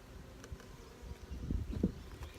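Honeybees buzz around an opened hive during a queen inspection, a steady close insect drone with a few louder passes as bees fly near, no talk.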